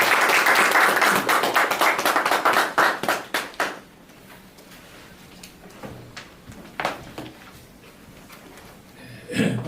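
An audience at an academic seminar on arbitration applauds to welcome a professor, with brisk close claps for about four seconds that thin out into scattered taps and faint room noise.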